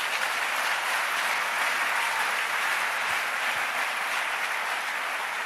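A church congregation applauds during a worship service, a dense, steady wash of many hands clapping that fills the room evenly and continuously, with no voices standing out above it.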